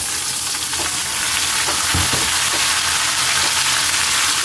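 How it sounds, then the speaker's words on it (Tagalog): Octopus sizzles loudly in a pan with onion and garlic, a dense steady frying hiss with a few soft stirring knocks, and no talk over it. "Ilagay na natin yung octopus natin Kylie"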